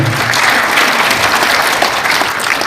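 Loud, dense applause fills a crowd at a formal signing ceremony for a provincial government agreement in NTT, steady throughout the short stretch with no voices standing out.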